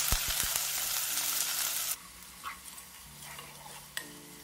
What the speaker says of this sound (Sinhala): ඊළඟට ලුණු, සුදු ලුණු, අමු මිරි මේ ඔක්කොම දාලා තෙම්පරාදු කරගන්නවා